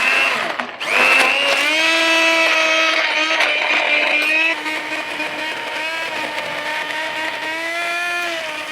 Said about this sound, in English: then I will just whiz it up with a hand blender